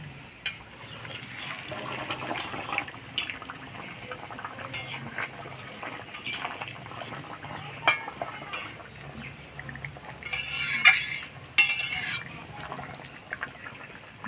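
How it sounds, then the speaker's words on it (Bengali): Stirring in a pot of taro curry as fried shol and taki fish are added, with soft liquid bubbling, scattered utensil scrapes and clinks, and a few sharper clatters toward the end, close and without talk. "ঝোল জাল হয়ে গেছে, এবার মাছ ভাজা মাছগুলো দিয়ে দিব।"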